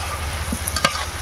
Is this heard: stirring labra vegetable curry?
yes